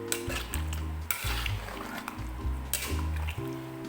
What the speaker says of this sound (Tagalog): Make sure halo-haluin niyo para hindi magdikit-dikit ang ating mga galapong.